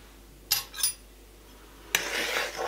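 Flour, dry yeast and salt being mixed in a bowl: a couple of short scraping clinks of a utensil against the bowl, then a longer brisk rustling stir, close and without voices.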